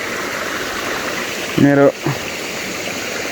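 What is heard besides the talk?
stream flowing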